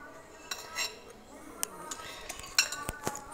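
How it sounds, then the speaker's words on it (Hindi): A knife cuts set jelly into small pieces in a dish, giving light metallic clinks and taps at an irregular pace, close by and moderately quiet. "हम जेली को कट कर लेंगे छोटे छोटे पीसेस"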